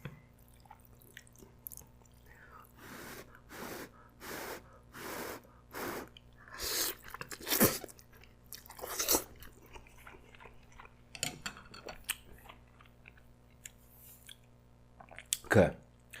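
A person chews a very hot bite of instant ramen with noodles: a run of close, wet slurping and chewing bursts in steady rhythm, then sparser smacks and sharp intakes of breath.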